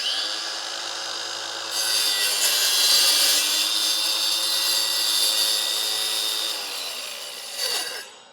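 A Ryobi power saw cuts through wood held against the fence, a loud, steady high-pitched whine and rasp that starts about two seconds in, holds for several seconds, then winds down near the end.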